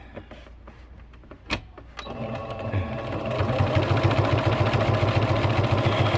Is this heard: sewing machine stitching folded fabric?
yes